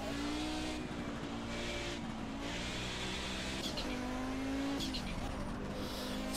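An Audi race car in the racing video game Project CARS holds a loud, steady engine drone with shifting pitch as it accelerates and changes gear, brief tire noise and a voice talking over the top.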